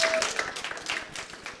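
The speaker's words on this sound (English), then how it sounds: "clap if you know the song" An audience claps together at a Christmas service during a countdown of favorite holiday songs, a steady patter of many hands that fills the room, brief and moderately loud with no voices on top.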